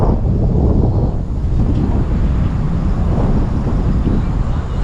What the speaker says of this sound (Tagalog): Gahadyong lang laging hangin din na.